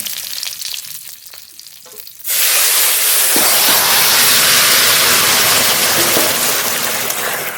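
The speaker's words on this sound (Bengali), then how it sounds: "ফড়নের উপরেই ভেজে রাখা জিওর মাছ দিয়ে দেবো তরকারি ঢেলে দেবো" Curry poured over a hot whole-cumin tempering with fried singhi fish bursts into a loud, steady sizzle after a quieter first two seconds, the hiss staying strong and continuous to the end.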